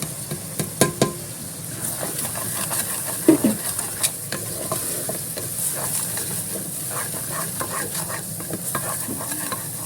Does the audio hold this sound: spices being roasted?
yes